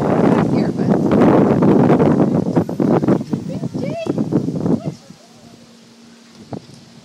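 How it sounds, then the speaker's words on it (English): Strong gusting wind buffets the microphone near a drawbridge on a rainy day, a loud broadband roar for several seconds that drops away suddenly, leaving quieter background and a few scattered voices. "Really windy."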